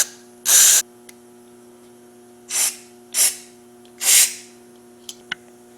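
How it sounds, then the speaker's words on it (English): Carburetor cleaner is sprayed through the air and fuel passages of a Mercury/Mariner outboard carburetor in four sharp hissing bursts, close and loud, with a faint steady hum and small clicks between them. "Use carburetor cleaner to spray through all the air and fuel passages in the carburetor to verify they are clean and free of debris."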